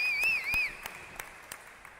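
Spectators at a squash semifinal of the 2023 R&TC Open break into scattered clapping, a few distinct claps spaced apart and fading, with a bright whistle-like tone early on.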